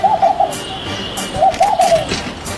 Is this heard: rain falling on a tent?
no